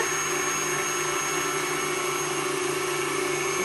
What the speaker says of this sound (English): So I'll show you again, going through the pasta machine.